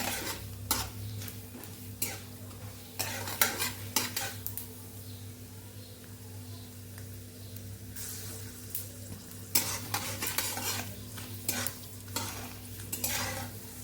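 Mustard seeds and chana dal sizzle steadily in hot oil while a spoon stirs and scrapes against the pan, with occasional clinks of metal.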